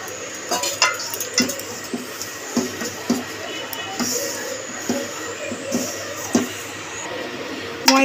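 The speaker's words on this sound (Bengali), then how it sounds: "এবার জল অল্প অল্প দিয়ে ময়দাটাকে ভালো করে মেখে নেব।" Flour dough for dal puri being kneaded by hand with water, oil, ajwain and salt, giving soft repeated slaps and squelches in an uneven rhythm, close and moderately loud, with occasional light clinks of a bowl.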